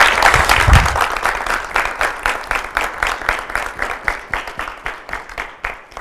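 A studio audience on a French television debate show breaks into loud applause, which settles into a rhythmic, steady clapping in unison and fades slightly over about six seconds.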